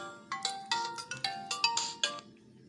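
A phone ringtone plays a bright, melodic electronic tune of repeated short tones in a steady rhythm, fairly close and loud against a faint low background, with no one talking.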